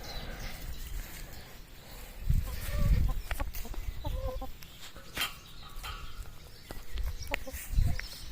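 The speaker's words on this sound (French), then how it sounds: "je vais donner les fans de radis aux poules, elles en raffolent." Backyard hens cluck and chatter softly while pecking at radish greens in a vegetable garden, with brief rustles and a few louder bursts of movement close by.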